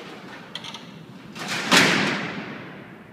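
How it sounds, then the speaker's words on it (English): Heavy steel cell doors at Alcatraz prison roll shut, with a sliding metallic rumble building into a loud clanging slam that rings out in a large, echoing cellblock. "you've probably heard the sound of these doors, even if you've never been to Alcatraz before"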